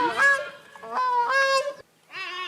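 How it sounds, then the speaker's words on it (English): Gray-crowned crane, Uganda's national bird, calling by a lake island in loud, honking, trumpet-like notes, two long phrases and then a third after a short pause, close and clear. "This is a song of the gray-crowned crane, the national bird of Uganda."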